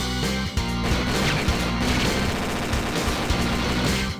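A heavy machine gun fires in the Metal Slug 6 arcade game as a dense, loud burst of rapid shots, mixed with explosions and crashes over the game's soundtrack.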